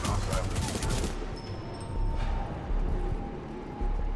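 Devotion weapon firing in Titanfall 2, a loud, dense burst of gunfire that rolls on continuously over a few seconds, with brief lulls and surges as the shooting carries on.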